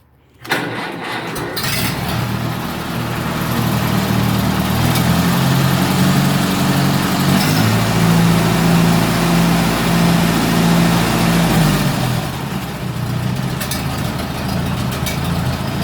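An old Massey Harris tractor engine, not run in 15 years, cranks and catches, then settles into a steady, loud, low rumbling idle close by that runs on without talk.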